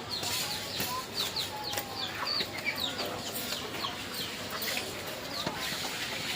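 Chickens cluck repeatedly in short, close bursts over a busy background hum.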